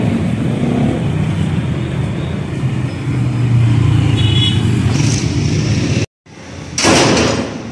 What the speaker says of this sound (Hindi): ये चौक है, ये सड़क जो है मंडी से ट्रैफिक किधर आ रही है